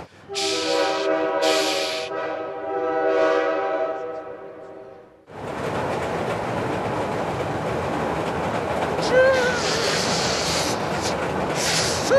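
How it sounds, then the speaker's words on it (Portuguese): A passing train sounds its horn in long, loud harmonic blasts, then the horn cuts off and the roar and rattle of the railcars rolling close by takes over, with occasional squeals. "Tem que falar tchau pro trem"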